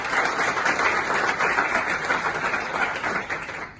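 A crowd applauds to welcome Dr. Fahim Kibriya at a book presentation event, a dense steady wash of clapping that holds for several seconds before tapering slightly at the end.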